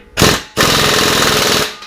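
An impact gun hammers at the rear wheel axle nut of a Harley motorcycle in two loud, close bursts: a short rattling burst, a brief pause, then a longer sustained rattle that cuts off.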